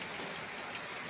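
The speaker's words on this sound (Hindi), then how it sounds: "देखो इतना जोर बारिश हो रहा है" Heavy rain pours steadily in a dense, even hiss with scattered ticking drops on surfaces, with no voices.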